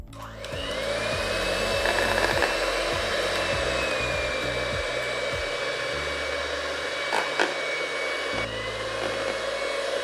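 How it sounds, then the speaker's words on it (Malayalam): Electric hand beater whipping cream for chocolate ice cream, a loud steady motor whir close up with faint knocking of beaters against the bowl, running continuously without talk. "ഇനി നമുക്ക് നന്നായിട്ട് ബീറ്റ് ചെയ്യാം."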